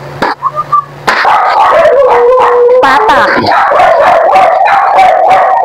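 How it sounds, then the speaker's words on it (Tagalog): Pet dogs at a home kitchen bark, yip and break into loud, drawn-out howls close by, overlapping one another, with a voice speaking briefly at the start. "Ingay yung mga aso namin"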